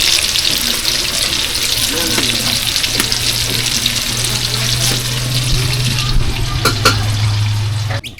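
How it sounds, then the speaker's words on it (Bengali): Curry with onion, chilli, ginger and garlic paste sizzles steadily in a kadai, a loud continuous frying hiss with a few scraping stirs and a low hum underneath. "আর এই দেখুন কড়াইতে রান্না হচ্ছে"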